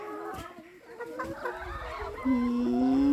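Chickens clucking at an egg-laying hen farm in a Thai village, a mix of short clucks and a drawn-out call from a nearby hen, with faint talk in the background.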